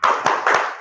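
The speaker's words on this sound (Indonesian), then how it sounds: "Tepuk semangat." A classroom group gives a quick spirit clap, three sharp, loud hand claps in close succession, with no voices.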